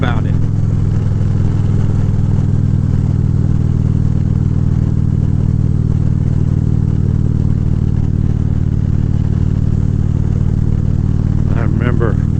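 A Harley-Davidson Road King motorcycle rides at night, its engine droning loud and steady for the whole stretch, with a low rumble and wind noise and a brief rising rev near the end.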